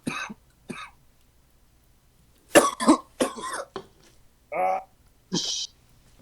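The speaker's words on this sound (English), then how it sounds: "I transmitted my cough over to you" Several coughs come in separate bursts, some single and some in quick pairs, loud and close, with quiet pauses between them.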